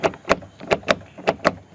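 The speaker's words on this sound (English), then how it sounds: "There's the deadbolt, it's working." The keyless electronic deadbolt lock on a camper door actuates, giving a quick series of six sharp mechanical clicks and clacks in an uneven rhythm, close and fairly loud.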